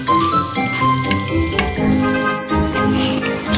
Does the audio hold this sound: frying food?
yes